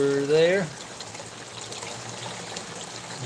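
A pump returns water into a 150-gallon garden turtle pond outdoors, a steady near splash and trickle running under the whole stretch after a brief tonal burst at the start.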